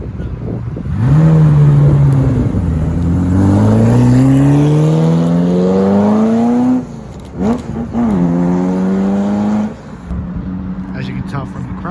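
A Ferrari F40 supercar revs hard up through its gears nearby, loud rising engine tones climbing, a brief lift, then another surging pull before it fades, with crowd voices underneath.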